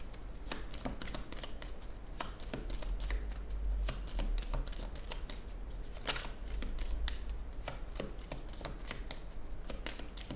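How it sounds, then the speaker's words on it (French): Playing cards are shuffled and drawn in a rapid run of crisp riffles and flicks, close and steady throughout, with a low background hum and no speech. "Je tire une dernière carte."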